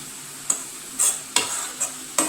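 A spatula stirs frying mathayila (pumpkin leaf) thoran with ground coconut paste in a pan, giving five distinct scraping strokes at a steady rhythm over a soft, continuous sizzle, close and clear with no voices.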